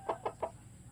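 Three short, evenly spaced clucks from a chicken, fairly close, with quiet background hum and no talking.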